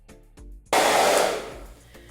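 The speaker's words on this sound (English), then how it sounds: "I'm going to keep doing some more diffusing" A hair dryer fitted with a diffuser, used on curly hair, switches on abruptly and roars loud and close with a steady airy rush that slowly eases in level.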